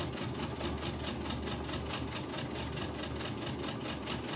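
A sewing machine runs steadily while stitching a curved seam in an improv quilt, giving a close, continuous rapid mechanical whirr and patter with no talking.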